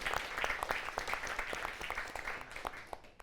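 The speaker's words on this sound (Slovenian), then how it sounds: "En aplavz, prosim," An audience applauds at a public talk after a speaker is introduced. Dense, steady clapping from many hands sounds fairly distant and quiet, with no voices over it.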